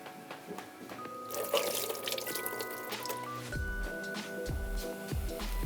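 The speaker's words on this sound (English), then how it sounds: "what we're gonna do is we're gonna strain this water." Water poured and drained through a strainer off lentils being prepared for misir wot, a trickling, splashing flow with kitchen clatter, moderately loud and close.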